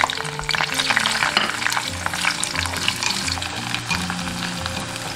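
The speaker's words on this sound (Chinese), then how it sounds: "砂锅里面倒入50克黑麻油，油热过后下入蒜粒、姜片炒香" Garlic cloves and ginger slices fry in black sesame oil in a clay pot, giving a loud, close, continuous sizzle broken by crackling spatters and occasional stirring.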